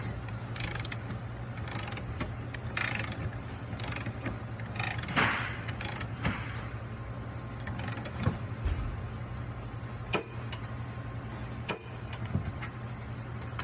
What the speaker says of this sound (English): We're going to tighten up our nut until we hear our torque wrench click.